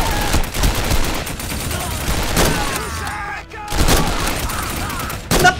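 Gunfire rattles in a Dien Bien Phu war video game, with several loud bursts of rapid shots separated by short pauses and a faint background din.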